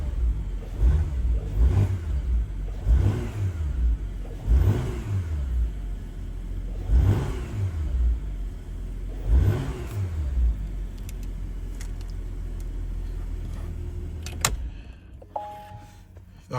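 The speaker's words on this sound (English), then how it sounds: "so I'm gonna give it a few revs." A Porsche Macan S V6 in sport mode, just after a cold start, revs close by in a series of about six sharp blips that rise and fall back to idle, then goes quiet with a few small clicks.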